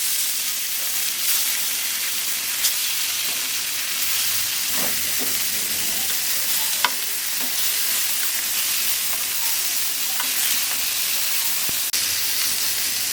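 River fish frying in hot oil in a pan, giving a steady close crackling sizzle with a few sharp pops throughout and no talking.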